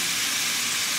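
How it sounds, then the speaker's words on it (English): Loud, steady sizzling hiss of vinegar added to a hot pan, bright and continuous throughout, close up with no talking. "listen to the sizzle"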